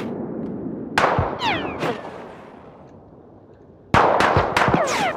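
Gunfire from Battlefield 4 gameplay on a snowy Operation Whiteout map: two loud bursts of rapid automatic shots, the first near one second and a denser volley near four seconds, with a ringing tail and low rumble between.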